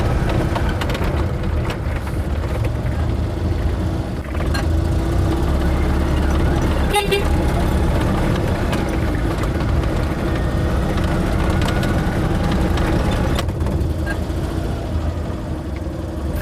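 An Invacar three-wheeler microcar pulls away from the National MicroCar Rally onto an off-road section, its small engine droning steadily with bumps, creaks and a sharp knock midway as the body rocks over rough ground.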